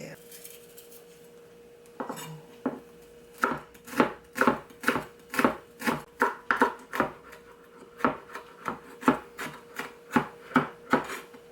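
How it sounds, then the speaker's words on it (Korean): A knife chops Cheongyang chili peppers on a cutting board in a kitchen, giving a steady run of sharp, close taps after a few scattered cuts, with a faint steady hum underneath. "청양고추도 썰어 줄게요."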